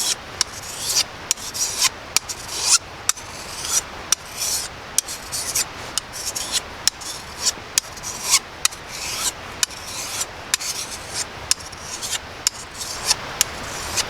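A hand file is drawn across the edge of an Ontario 12-inch sawback machete blade in repeated rasping strokes, roughly one per second, each a sharp scraping rub with brief pauses between.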